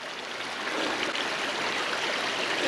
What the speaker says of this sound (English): you can see the water just pouring down from up there.